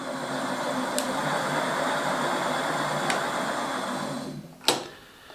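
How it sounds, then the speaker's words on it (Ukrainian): The hub motor wheel of a FORTE electric bicycle, being checked during a repair, spins with a steady whirring hum and faint ticks, then a sharp click near the end as it winds down. "Бачите, мотор колесо наше обертається."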